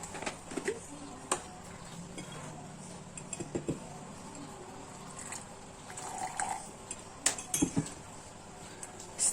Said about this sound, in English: pour the hot water